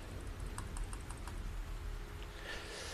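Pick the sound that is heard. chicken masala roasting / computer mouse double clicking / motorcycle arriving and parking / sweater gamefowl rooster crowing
computer mouse double clicking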